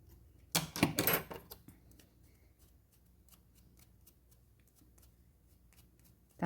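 Scissors trim material for a nativity scene craft in a jar, a short burst of close snipping and rustling followed by quiet with faint scattered ticks.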